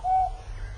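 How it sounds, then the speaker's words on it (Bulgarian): A cuckoo calling in a children's tale: a single short, hollow hooting note near the start, then a quiet background. "ето и кукувица ме закука"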